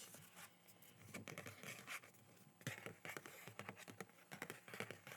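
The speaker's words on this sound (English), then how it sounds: "I thought the sound of the paper was nice" Paper rustles and crinkles up close during a quiet ASMR unboxing of Seventeen albums (Second Wind, You Make My Day, Going Seventeen), with soft scratchy bursts in an uneven rhythm and no talk.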